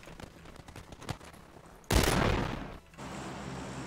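Gunfire in PlayerUnknown's Battlegrounds: a few faint scattered shots, then a loud close burst of rapid fire lasting about a second that gives way to lingering rumble.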